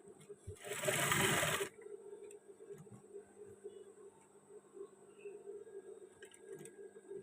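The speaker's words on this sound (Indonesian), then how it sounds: "ini kita jahit aja" A sewing machine stitches batik fabric in one loud, close burst of about a second, then stops, leaving low background hum and faint handling noises.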